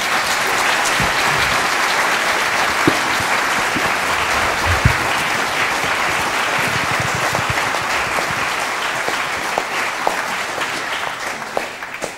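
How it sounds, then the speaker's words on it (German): An audience at a Catholic talk gives a long, hearty round of applause for a 95-year-old woman, sister of Cardinal Josef Höffner; thick, steady clapping with occasional sharper claps close by. "bekommt sicher jetzt erstmal einen kräftigen Applaus"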